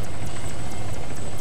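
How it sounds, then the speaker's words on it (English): Helicopter in a video game, a steady broadband rotor and engine roar with a rhythmic blade chop and a thin high whine, loud and close throughout with no talk. "Holy shit, this fucking chopper is fucked up."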